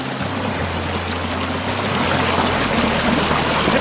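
Stream water flows steadily at an outdoor cooking spot, a continuous close rushing and gurgling wash with a low rumble underneath and no talk.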